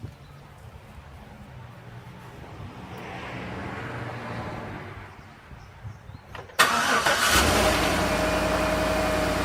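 A 2011 Chevrolet Suburban engine cranks over after a valve cover replacement, catches with a sudden loud start and settles into a steady running idle, preceded by faint background noise.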